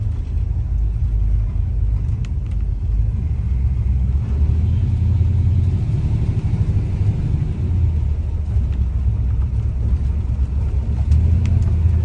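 A 1966 Chevy Caprice V8 rumbles steadily from inside the car while cruising slowly out of a neighborhood, a low continuous engine drone with slight swells and no talking.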